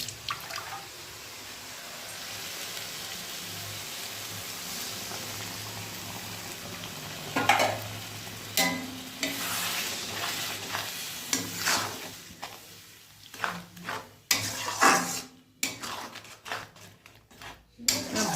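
A spice paste of cumin, coriander, salt and turmeric mixed with a little water is fried and stirred for an egg curry: a quiet bubbling sizzle that grows into frequent loud scraping and clattering spoon strokes toward the end.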